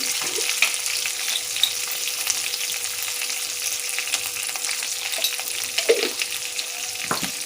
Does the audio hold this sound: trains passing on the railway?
no